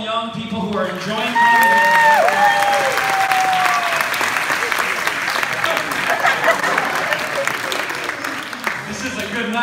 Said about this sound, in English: First, give a hand to all the young people who are enjoying